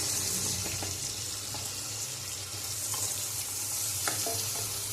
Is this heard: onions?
yes